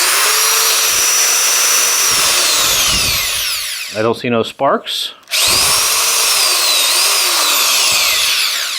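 An electric 3/8-inch right-angle drill runs loud and close in a steady high whine, dips briefly while someone speaks, then spins up again and keeps running at full speed.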